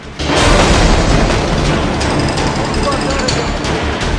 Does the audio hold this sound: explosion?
yes